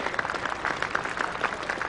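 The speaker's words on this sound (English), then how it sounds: "Warm applause for the Yorkshire 100." A county cricket crowd at a Yorkshire versus Derbyshire match gives steady, even applause for Yorkshire's hundred. The clapping is moderately distant and continues without talk.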